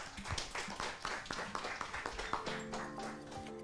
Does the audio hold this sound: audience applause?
yes